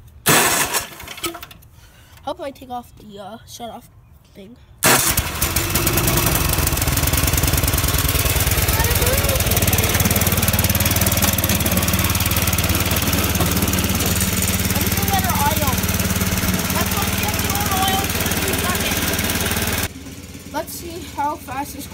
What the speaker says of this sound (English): Let's fire up and let her move.